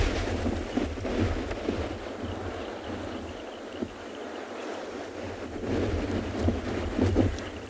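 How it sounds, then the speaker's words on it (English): Wind blusters across the microphone in uneven gusts on a penguin beach at low tide, rumbling low and rising and falling, with a faint wash of sea beneath. "You've got that wind gusting behind us, blowing onto the sea and onto the penguins."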